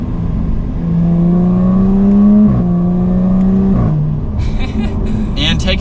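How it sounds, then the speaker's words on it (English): A 2021 Jaguar F-Type R-Dynamic drops to third gear and pulls away. The engine note climbs and dips through gear changes as the car accelerates, with a voice talking faintly over the steady drone of the cabin. "We'll go ahead and downshift to 3rd gear"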